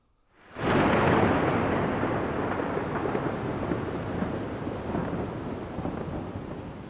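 Thunder played during a children's church service, a sudden loud crack-like onset that swells into a long, deep rumble slowly fading over several seconds.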